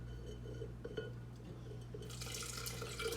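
Date-soaking water pours into a bowl of tamarind chutney with a steady close trickle and splash that swells louder toward the end, over a low background hum.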